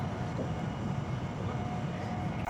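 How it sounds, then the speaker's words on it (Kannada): A high-speed train running fast along the rails, heard as a steady broadband roar with a low rumble beneath, continuous and even throughout at moderate loudness. "ಅಂದರೆ ನಾವು ಇಮ್ಯಾಜಿನ್ ಮಾಡ್ಬೋದು ಎಷ್ಟು ಸ್ಪೀಡಲ್ಲಿ ರೈಲು ಹೋಗ್ತಾ ಉಂಟು ಅಂತೇಳಿ"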